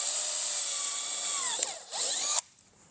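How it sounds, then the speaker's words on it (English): A handheld power drill bores a hole in the fender flange of a 2024+ Polaris RZR XP 1000 side-by-side, a loud close whine that dips and changes pitch as the bit cuts through, then stops abruptly near the end. "I'm going to drill 1 hole, and then I'm going to push in my insert"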